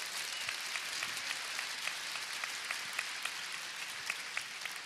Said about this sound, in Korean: 서로 박수 한번 칠까요?